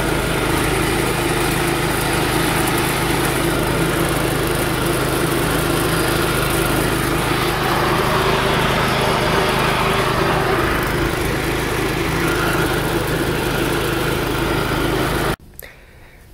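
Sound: Sears Suburban garden tractor engine running on a ride

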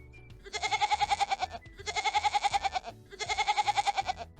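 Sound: goat bleating

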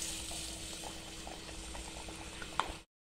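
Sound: thattai dough pieces deep frying in hot oil

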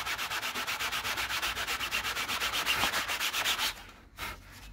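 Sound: sanding a model aircraft covered in Solartex

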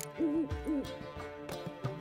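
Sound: bird hooting in The Witcher 3 video game

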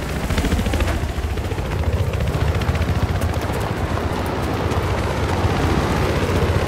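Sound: enemy helicopter in video game Battlefield 3

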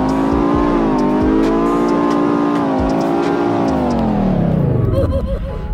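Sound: sports car engine revving in video game Roblox Greenville

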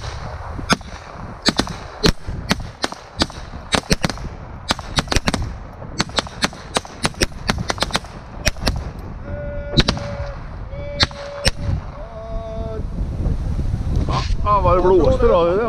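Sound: gunfire volley after fire command

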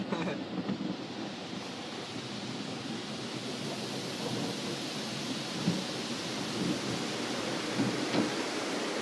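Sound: rain with thunder

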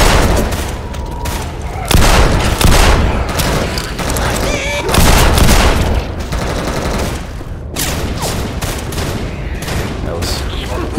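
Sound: gunfire in a video game, CS_Office

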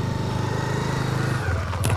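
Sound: motorcycle passing close by

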